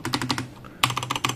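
Keys on a Machenike K600 Lite mechanical keyboard with Outemu Brown switches clack in quick bursts of presses, close and crisp, with a short pause midway.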